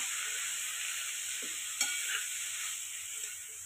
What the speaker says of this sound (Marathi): शेंग चांगली परतून घ्यायची.